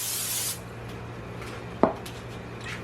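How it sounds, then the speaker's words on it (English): A short burst of cooking oil sprayed onto sweet potatoes, a loud close hiss lasting about half a second, then quiet background hum and a single soft clunk. "I'm going to just give this a little bit of a coating of oil."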